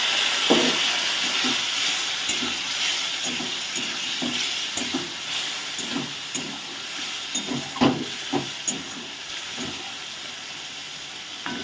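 Spice paste fries in a pan after a splash of water, giving a steady hissing sizzle with soft bubbling pops and light stirring knocks, close and moderately loud.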